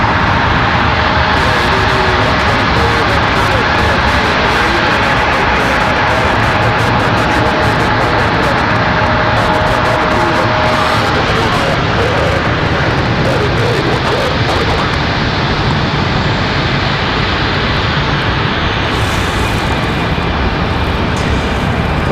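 Avello Airlines jet taking off from runway 23L at Raleigh-Durham International, bound for New Haven, Connecticut, its engines a steady broad roar that holds loud through the whole stretch, with faint airport background underneath.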